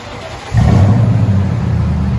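A deep 5.7L V8 engine in a 2017 Toyota Tundra catches and settles into a loud, throaty idle with a burbling Flowmaster dual-exhaust rumble, close by and steady.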